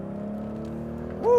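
A 3.7-litre V6 Ford Mustang pulls away from a start, its engine humming steadily close by, then revving up sharply in the final moment.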